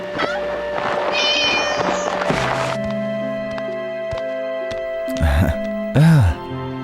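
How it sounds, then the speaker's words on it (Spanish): Cats meow loudly in a few drawn-out, rising-and-falling cries near the end of a busy scene, following a stretch of mixed voices and music. "Los gatos fueron los primeros en salir."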